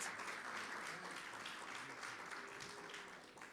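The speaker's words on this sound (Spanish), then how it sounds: "Dale un aplauso al Rey de Reyes." A church congregation applauds during a bilingual Spanish-English service, a soft, distant, continuous patter of many hands lasting a few seconds.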